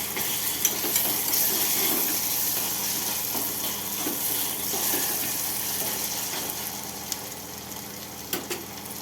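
Ginger garlic paste fries in a pan for a ridge gourd and tomato curry, giving a steady, even sizzle with crackling spits that runs throughout, close up and with no talk.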